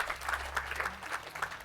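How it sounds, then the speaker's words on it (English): Audience applause for a speaker at a CCIM Portland/SW WA generational awareness session, steady and dense clapping from a room of people lasting throughout, fairly close and even in level. "Let's give Andy a round of applause here"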